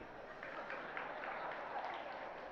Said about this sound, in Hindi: आपने हर बात पर ताली बजाना प्रारंभ कर दिया